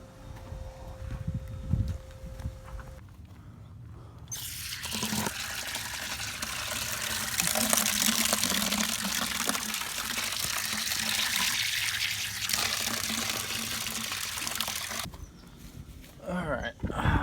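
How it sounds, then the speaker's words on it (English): Water gushes steadily from a tap into a bucket outdoors while planting an apple tree, a loud continuous rushing fill lasting about ten seconds before stopping. "Time to get one more bucket of water."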